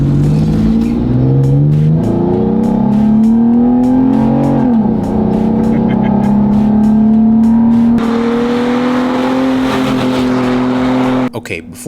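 A car fitted with a cold air intake accelerates hard, engine tone climbing through several gear changes, loud and close with a voice speaking over it.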